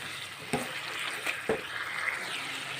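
Meat trimmings sautéing in oil in a pan, a steady close sizzle broken by two soft stirring scrapes.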